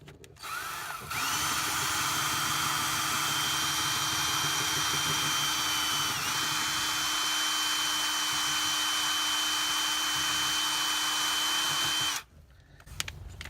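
A power drill fitted with a flat-faced wire brush grinds rust off a DeLorean frame, running as one loud, steady whine for about eleven seconds before stopping abruptly.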